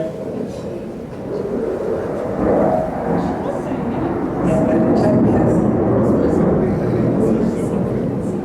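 A jet aircraft passes over during an air show, a broad distant roar that swells and holds steadily beneath people talking nearby.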